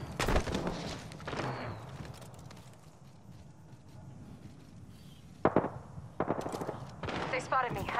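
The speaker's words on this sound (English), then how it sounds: "Taking shots." Gunshots in the video game Apex Legends, a few sharp bursts near the start and again toward the end, separated by a quieter stretch of ambient game noise.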